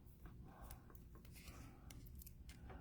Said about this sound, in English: take the scissors and trim that without trimming my fingers